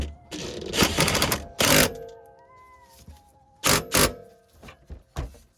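A torque wrench clicks while bolts on a Lexus SC400 front suspension are tightened to 47 foot-pounds: several short, sharp, close clicks in separate bursts with quiet gaps between them.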